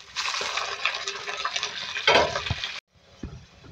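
Chicken liver going into hot oil with onions already fried, giving a steady broadband sizzle with stirring scrapes, a brief louder burst near the end, then a short pause before quieter frying resumes.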